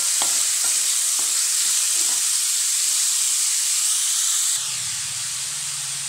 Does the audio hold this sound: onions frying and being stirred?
yes